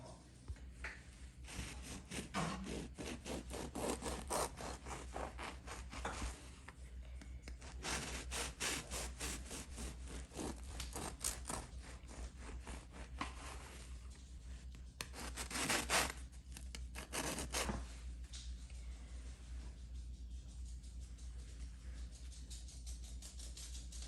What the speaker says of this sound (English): So our sourdough loaves are cooled, and we're gonna slice into them now.